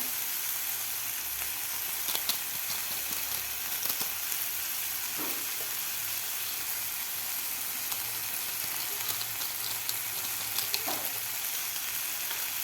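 Maggi masala being stirred into vegetables frying in a pan gives a continuous bright sizzle, with occasional soft scrapes and clinks of stirring and no talk.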